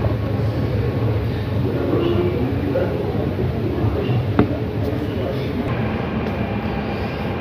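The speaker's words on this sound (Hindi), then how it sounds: "ट्रेन आ गई" A Dubai metro train pulls into an elevated station with a steady low rumble and rolling noise. A single sharp clack stands out partway through, and the train's roar stays constant beneath background ambience.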